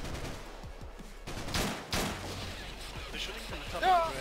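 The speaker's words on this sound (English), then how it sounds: "They're shooting from the top of the bridge." Gunfire in Payday 2, shooters firing from the top of a bridge: repeated sharp shots and short bursts in an irregular stream, with voices in the mix.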